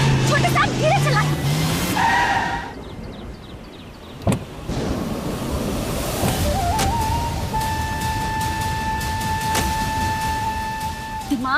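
A car driven fast, its tires squealing and skidding with a sustained high whine, while people speak and shout over the engine noise.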